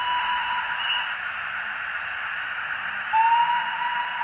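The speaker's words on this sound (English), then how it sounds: "So we've got some whistles." A Bachmann 4F model locomotive's sound decoder plays a whistle, a steady tone sustained throughout and swelling louder near the end, over a faint continuous hiss, with no talking.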